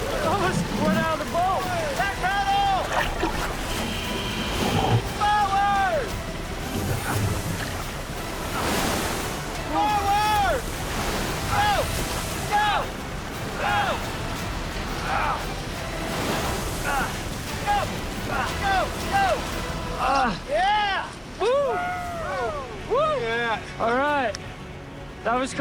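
Roaring Class 5 whitewater rushes and churns continuously at Caldera Rapid while rafters shout and call out over the din of the rapids.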